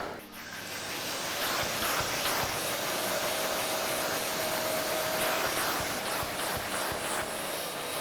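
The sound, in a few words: hoover vacuuming dirt from car carpet mats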